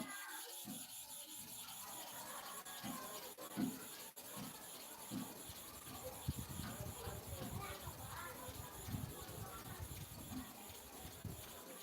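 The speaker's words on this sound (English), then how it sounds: "Let us go for the sharpening now, not to waste our time. So I'm going 30 times here, 30 times here, slow motion." A barber clipper blade is sharpened on a heavy iron plate with slow, repeated back-and-forth rubbing strokes. The strokes form a steady rasping, scraping rhythm close to the microphone, with a voice speaking now and then.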